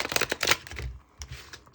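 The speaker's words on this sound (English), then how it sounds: "I'm gonna give this a shuffle for you guys." Tarot cards are shuffled by hand in two quick bursts of riffling, crisp papery flutters, close and fairly quiet, separated by a short pause.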